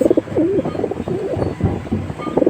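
Soft, rounded pigeon coos repeat in a slow, throaty rhythm, fairly close, with a few faint chirps and light background noise between calls.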